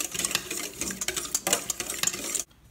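Rapid clinking and scraping of a utensil stirring sugar into hotcake batter in a bowl, a busy close rhythm of small taps that stops abruptly near the end.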